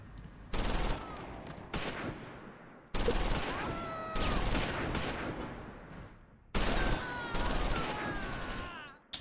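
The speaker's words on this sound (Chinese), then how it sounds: "结果对面开炮了" Heavy gunfire and artillery in a Close Combat 5 Normandy beach-landing battle at Quinéville, with dense bursts of shots and booms in loud blocks broken by short gaps, and talk mixed in.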